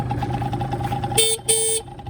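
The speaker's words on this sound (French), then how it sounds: "Voilà, donc ça c'est le klaxon." A motorcycle horn sounds in two short honks, the second slightly longer, close and fairly loud over a steady idling engine hum.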